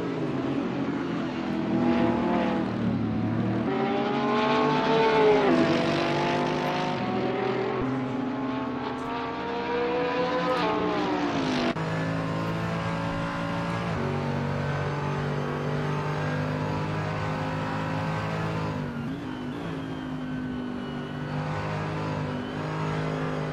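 Porsche and Mercedes-Benz race cars battling in a sim racing game at Road Atlanta: loud, continuous engine roar with rising and falling revs as gears shift, overlapping cars droning close together, no talk over it.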